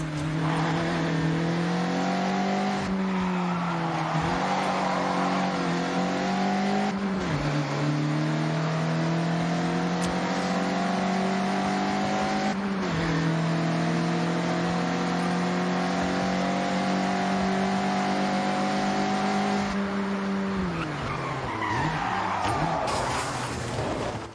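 A Mazda MX-5 racing in Forza Horizon 6, its engine revving high and steady through long pulls, dipping on gear changes and corners, with tire squeal as it slides sideways.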